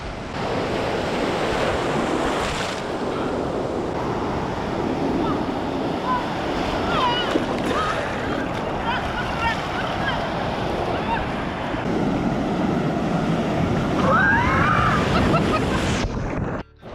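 Steady roar of ocean surf breaking on a Tenerife beach, continuous and loud throughout with wind buffeting the microphone.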